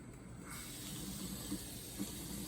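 Water pours into a jar packed with beef for canning: a steady, hissing trickle at close range, with faint gurgles as the liquid fills the gaps.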